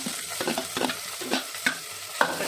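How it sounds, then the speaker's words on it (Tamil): Onions sautéing in oil in a pan, with a spoon stirring and scraping at intervals over a steady low sizzle, close and fairly quiet, no talking. "வெங்காயம் நல்லா வதங்கிடுச்சுங்க"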